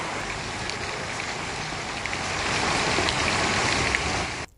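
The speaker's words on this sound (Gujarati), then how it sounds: "3 દિવસના વિરામ બાદ શરૂ થયો વરસાદ." Heavy monsoon downpour in Aravalli district, Gujarat, a dense steady roar of rain that swells slightly louder midway and continues with no voices until it cuts off.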